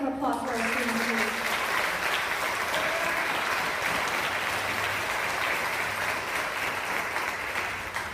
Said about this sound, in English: Can we hear a big round of applause for our students, please?